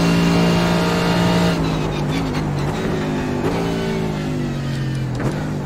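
A race car engine roars steadily on the Nürburgring in a sim racing game, loud and close, its pitch rising with each gear and dipping briefly at every shift, with no talking.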